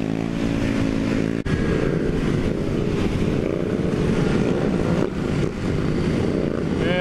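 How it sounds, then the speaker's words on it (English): Strong wind buffets the microphone outdoors at a mini moto event, making a loud, constant roar that covers the whole stretch with a few brief gusts and dips. "This fucking wind is crazy."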